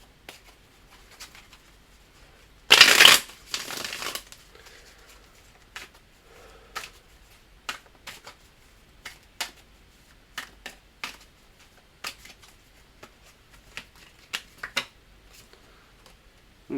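Tarot cards are shuffled in a quiet room, with one loud riffling burst early on followed by a string of soft, scattered card slaps and flicks spaced irregularly.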